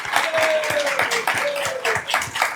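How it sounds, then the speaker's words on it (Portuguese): Applause from a live audience honoring a Brazilian world-champion footballer's birthday, dense clapping sustained throughout at steady loudness, with a voice talking over it. "Muito obrigado pelos aplausos"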